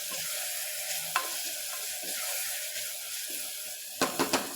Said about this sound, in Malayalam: ഉപ്പൊക്കെ ഇട്ട് വഴറ്റിയാൽ പെട്ടെന്ന് സവോള വഴന്ന് കിട്ടും